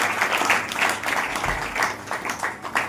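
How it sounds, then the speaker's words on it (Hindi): A church congregation claps loudly and steadily, a dense wash of many hands applauding together for the whole stretch, close and continuous. "एक बार जोर से ताली बजाओ।"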